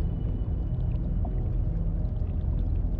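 Continuous low rumbling water and machinery drone from the Subnautica Below Zero video game while water is being made, steady and loud with no talk.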